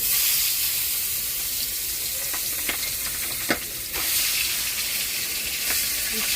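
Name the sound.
piece of fish frying in oil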